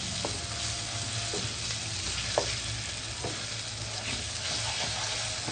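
Mashed eggplant for baingan bharta is stirred into masala in a pan, giving a steady soft sizzle of frying with occasional light scraping and tapping of the spoon throughout.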